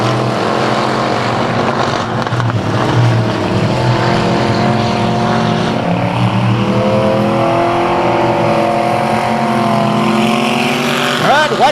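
Race cars at South Texas Speedway roaring around the track in a continuous loud engine drone with shifting pitch as the cars pass, with an announcer's voice running over the noise throughout.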